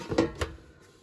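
An air fryer drawer in a caravan kitchen slides open with two quick, close plastic clunks in rapid succession, followed by a faint rattle.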